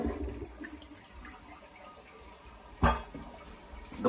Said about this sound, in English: The bowl is just filling, and it's not going anywhere.